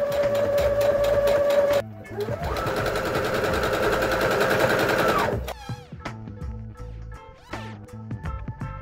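A sewing machine runs close and loud, stitching T-shirt fabric seams for a deconstructed sea-foam effect dress. A rapid mechanical chatter comes in bursts, with one long run in the middle, followed by a few clicks and handling sounds.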